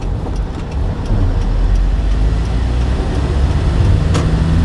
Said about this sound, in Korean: 기어 2단 넣으시고, 서로 잘 보시고, 출발할게요. 자, 엑셀 밟으세요.